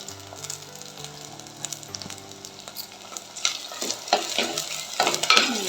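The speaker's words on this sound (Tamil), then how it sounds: "நல்லா வதங்கட்டும்." Tomatoes with garlic and curry leaves sautéing in a pan for a fish gravy, a soft sizzle building into louder crackling frying with stirring scrapes toward the end.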